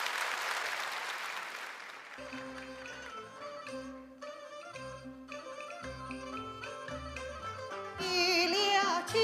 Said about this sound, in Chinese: 来，掌声给他，加油！